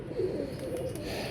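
A pigeon gives a single low, throaty coo, close and fairly clear over a faint background murmur.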